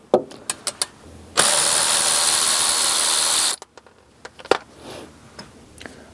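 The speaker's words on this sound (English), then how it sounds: "I also like to remove the bolt that holds the brake hose onto this bracket here" A ratchet or power tool spins a brake hose bracket bolt loose on a 2013-2017 Honda Accord rear knuckle, giving a loud, continuous two-second whir flanked by sharp metallic clicks and taps.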